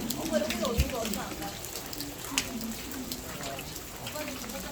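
Steady rain pours at Naksansa Buddhist temple in South Korea, a constant close hiss of drops on hard surfaces, with faint murmuring voices underneath.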